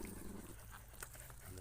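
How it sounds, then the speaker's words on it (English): Puppies growl faintly from a distance, with low rumbling vocal bursts mixed with background noise and brief rustling. "the puppies are even engaging in a bit of growling vocals"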